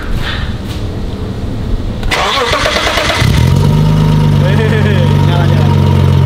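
A straight-piped Nissan GT-R R35 with a Meisterschaft exhaust cranks and catches midway through, then settles into a deep, loud, steady rumble. Before it starts there is close handling noise and brief background voices.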